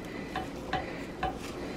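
A spoon scrapes through thick yam foufou dough in a pot, three distinct stirring strokes about half a second apart over a soft background hiss.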